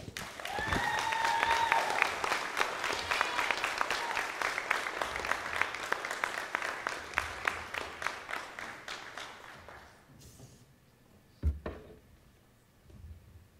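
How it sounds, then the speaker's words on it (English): Applause from a youth public speaking audience for a speaker, brisk and dense at first with a brief whistle, then thinning into scattered claps and fading out, followed by a single knock. "one more round of applause for Ms. Aminata Drame"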